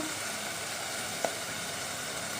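Onions frying in a pan, a soft, even sizzle throughout with a brief small click near the middle, faint and steady, no voices.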